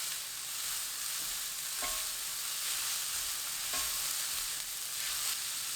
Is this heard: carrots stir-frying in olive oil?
yes